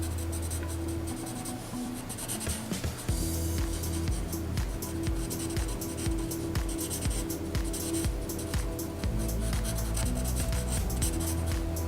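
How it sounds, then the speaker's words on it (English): Pencil or pen strokes on paper while sketching the sleeves of a suit coat, a steady close scratching and rubbing that runs continuously with short pauses, over a low background hum. "So I'm just drawing suit arms here."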